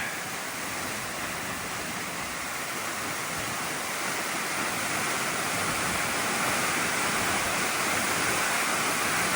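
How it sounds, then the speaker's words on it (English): Lower canyon waterfall on Lady Northcote Creek roars in a steady, dense broadband rush, close and constant throughout with no voices. "So this is the lower canyon falls."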